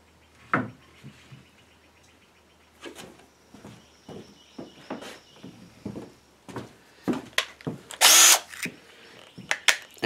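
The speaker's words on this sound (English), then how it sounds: "I find it's easier to just screw all, or drill all the holes at once" A power drill bores holes in wood for DIY shelving, with several short whirring bursts separated by pauses and knocks from handling the boards.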